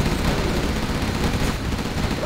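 Dense gunfire barrage from China forces in the real-time strategy game Command & Conquer Generals Zero Hour, a continuous, loud roar of overlapping rapid shots without pause.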